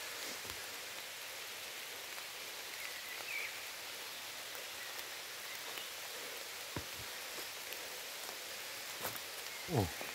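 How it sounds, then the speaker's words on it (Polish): Steady soft rain falling outdoors near a parked car, a continuous faint hiss of drops with a few brief louder taps and a short bird chirp, no talking. "Deszcz pięknie pada."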